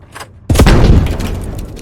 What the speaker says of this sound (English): So you can see that is a smaller explosion, but more fragmentation going up